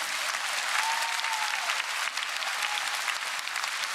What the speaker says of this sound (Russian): ваши аплодисменты